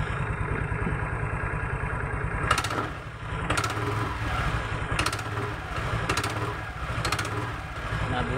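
An automatic scooter engine with a faulty rear pulley idles and revs in short repeated bursts, a rattling buzz rising each time the throttle is blipped, about five times.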